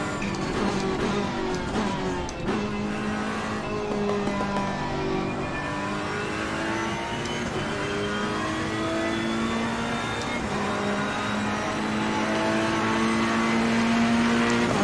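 A GT3 race car engine at Monza in a racing video game, droning loudly and continuously with rising and falling revs through gear changes, the car damaged and a lap down.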